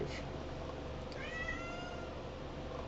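A domestic cat meows once in a drawn-out, rising-and-falling call, close by, over a steady low background hum.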